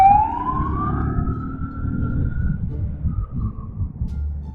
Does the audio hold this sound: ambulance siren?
yes